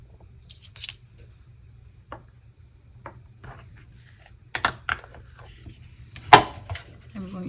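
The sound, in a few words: rubber stamp stamping antennas on card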